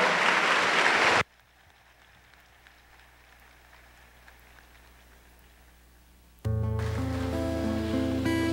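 Church congregation applauding, loud dense clapping that breaks off abruptly, then a quiet pause before music starts.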